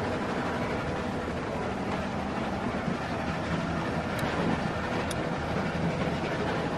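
A moving train in The Walking Dead video game rumbles steadily and fills the whole clip with dense broadband rail noise, close and continuous, with a few faint metallic clicks and no voices.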